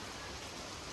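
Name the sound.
rain falling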